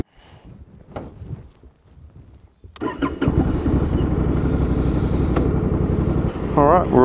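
A Honda Africa Twin DCT motorcycle cranks and fires up after a few quieter handling sounds, then settles into a steady, close, rumbling idle that holds to the end.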